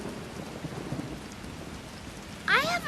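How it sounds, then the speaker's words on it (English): Heavy pouring rain hisses steadily, then a loud crack of thunder bursts in near the end and rolls on. "I better do it now before this rain gets any worse."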